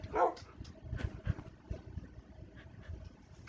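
Dogs barking in the Lego Island video game, a few short barks and yips near the start, then faint scattered yaps over a low game background.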